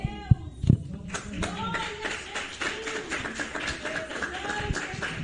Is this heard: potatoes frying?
no